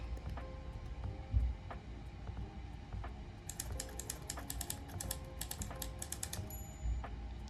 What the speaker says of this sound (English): It's called the punching sound of typewriter